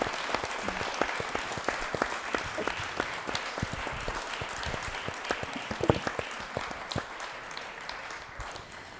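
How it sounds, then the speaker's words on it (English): A smaller room of people applauding at a climate justice talk, individual claps distinct and crisp in a moderate, uneven patter that thins slightly toward the end. "Can we have another round of applause for the Shadow Justice Minister?"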